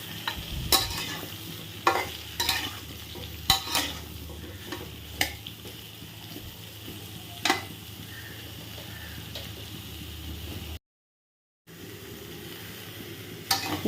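Papaya fries lightly in a pan with a soft, continuous sizzle, broken by scattered scrapes and clinks of stirring, then a brief silent gap before the sizzle resumes.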